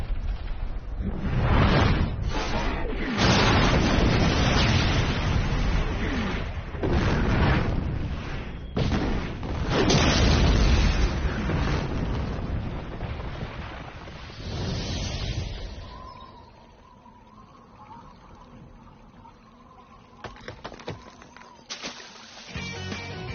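A big cartoon blast of a planet being blown up in the Megas XLR animated series: loud rumbling booms and bursts that roll on for about fifteen seconds, then thin out into quieter scattered pops and a low hum.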